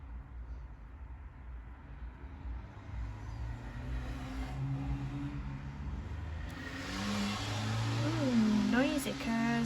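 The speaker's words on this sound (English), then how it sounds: "Noisy cars, aren't they?" Cars pass outside on a road, a low rumbling traffic wash that swells gradually and grows louder toward the end, with a voice speaking over it near the close.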